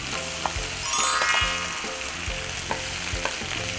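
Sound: bitter melon stir-fried with salted egg yolk

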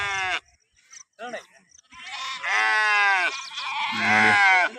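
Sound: sheep and lambs bleating

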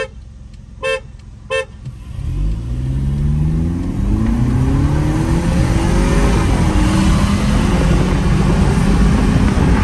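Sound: car accelerating hard in Sport mode during a drag race

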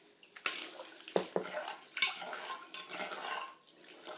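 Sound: water poured while washing field crabs

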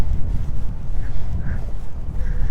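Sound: wind blowing at Seongsan Ilchulbong, Jeju

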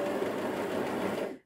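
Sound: sewing machine sewing a zigzag stitch

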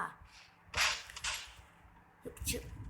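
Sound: gunfire in the video game Free Fire

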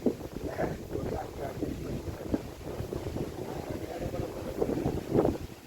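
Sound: strong wind

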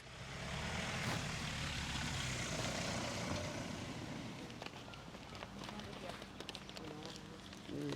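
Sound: helicopters flying overhead near the border

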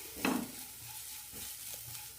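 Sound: stirring chilli powder and garam masala while sautéing in a pan

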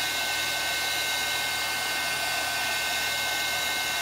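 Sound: heat tool heat-setting ink on a card

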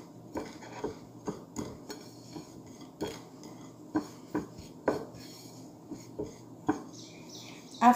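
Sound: mixing spices, salt and chicken cube powder in a bowl

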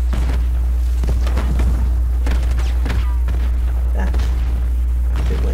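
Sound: grenade explosion in Call of Duty Black Ops 6 video game

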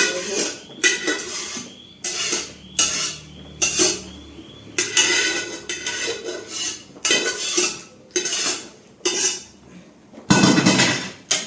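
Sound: pav bhaji vegetables stirred in a pan

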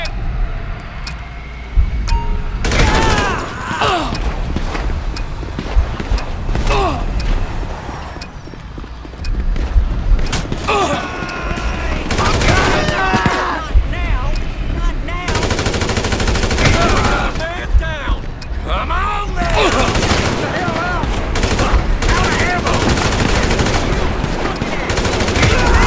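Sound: gunfire in the video game Grand Theft Auto V

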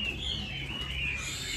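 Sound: male hwamei songbird with yellow legs and yellow beak calling

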